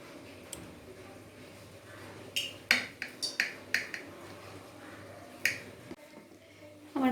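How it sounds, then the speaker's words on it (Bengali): A knife slicing a shallow-fried lentil cake (dhoka) into pieces on a board makes a run of quick, crisp clicks and taps, close and fairly quiet, in an irregular rhythm. "এবার আমি পিস পিস করে কেটে নিচ্ছি"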